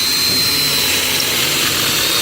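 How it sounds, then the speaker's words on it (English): A power drill whines steadily and loudly while boring a hole for a brass threaded insert, a continuous high-pitched drone with no pauses or voices. "Drill your hole accordingly."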